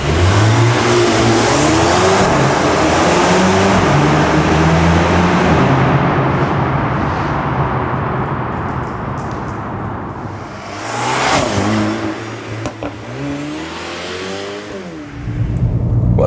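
A Mercedes-AMG A35 engine revs hard under acceleration, loud and close, its pitch sweeping up through several gear changes before easing off and then climbing again.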